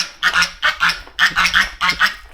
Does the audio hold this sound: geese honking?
yes